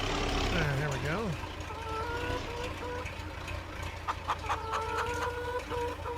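Chickens cluck in the Farming Simulator 25 video game, with bursts of clucking near the start and again toward the end under a steady low engine-like rumble.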